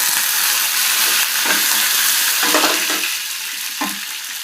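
Curry leaves hit hot oil for a potato fry, giving a loud, close, crackling sizzle that runs continuously with a few stirring scrapes and bursts, easing off slightly toward the end.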